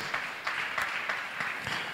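A church congregation at a Sunday service claps together, a dense steady patter of many hands carrying on throughout without a clear beat.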